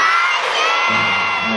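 Loud concert crowd in Beijing cheering and screaming for a singer, a bright, sustained roar of many voices with high shrieks, close and continuous for the whole stretch.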